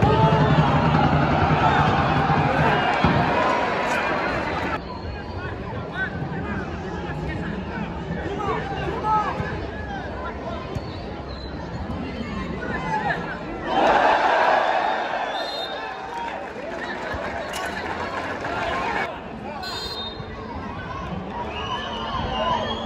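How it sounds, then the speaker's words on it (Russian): Football fans in stadium stands at a Kazakhstan Premier League match between FC Aktobe and FC Taraz, a dense roar of crowd chanting and shouting that swells and fades, heard at a distance beneath someone talking. "Болельщики очень активно поддерживают свою команду."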